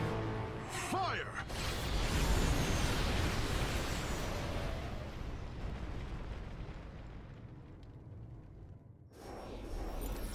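Heavy weapon fire from the Spear of Adun in StarCraft II erupts in booming explosions that roll into a long, loud, rumbling wash, fading before a final burst near the end.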